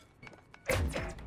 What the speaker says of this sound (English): Planting bomb on target.